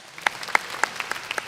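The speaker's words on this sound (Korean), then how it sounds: "자, 박수 부탁드리겠습니다." A church audience at a summer revival gathering gives light, scattered applause: about seven distinct handclaps spread unevenly over a second and a half, with no one speaking.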